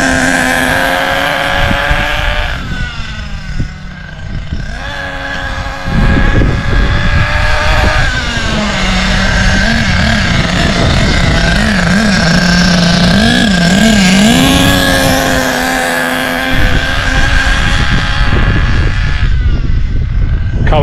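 A Thunder Tiger EB4 S2.5 nitro RC buggy engine runs at quarter throttle during break-in, a loud, steady buzzing whine with rising and falling pitch that continues for the whole stretch.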